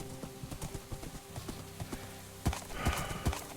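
Horse hooves clip-clopping in the video game Sunlit Valley, a quick, close run of hoof clops over a soft ambient background, ending in a few louder hits.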